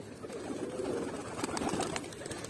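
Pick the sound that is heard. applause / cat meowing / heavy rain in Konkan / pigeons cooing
pigeons cooing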